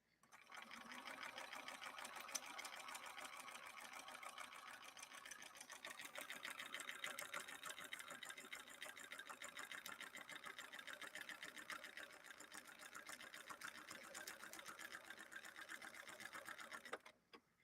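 A Bernina Record 930 Electronic sewing machine stitches continuously at an even, rapid mechanical clatter with a steady whirring motor, running alone for about sixteen seconds before stopping.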